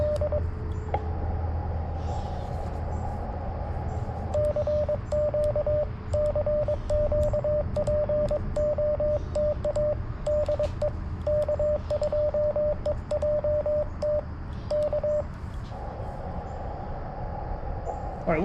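Morse code CQ call keyed on an FX-4CR radio outdoors: a steady, rhythmic train of short and long sidetone beeps over a constant hiss of static and background noise, with no talking.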